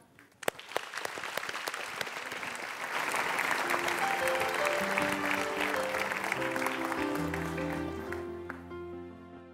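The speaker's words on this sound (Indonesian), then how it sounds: "Silakan Mas, tepuk tangan." Audience applause at an Indonesian talk event starts with a few scattered claps, then swells into steady clapping from a hall crowd, with faint musical tones rising underneath toward the end.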